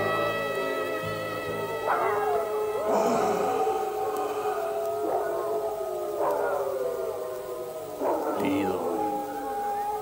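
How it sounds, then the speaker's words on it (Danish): A pack of dogs in an animated series from 1990 howls in long, sustained, wavering cries, with several rising howls overlapping one another at a steady loud level over ten seconds. "Alle hunde hyler mod himlen med blottet strube"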